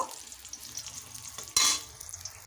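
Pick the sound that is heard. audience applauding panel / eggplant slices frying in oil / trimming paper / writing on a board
eggplant slices frying in oil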